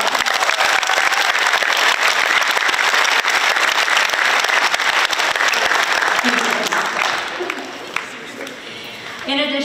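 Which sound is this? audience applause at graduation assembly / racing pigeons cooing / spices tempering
audience applause at graduation assembly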